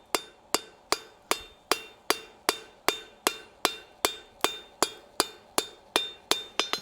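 Hammer striking steel on an anvil while forging a decorative hacksaw, with about sixteen sharp, ringing metallic blows in a steady, even rhythm, close and loud, with no talking.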